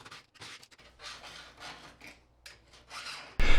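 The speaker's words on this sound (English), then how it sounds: "I can then start to remove most of the silicone." Old silicone caulk being scraped off a bathtub edge by hand, heard as a series of short close rasping, rubbing strokes with brief pauses between them, ending in a sudden louder scrape.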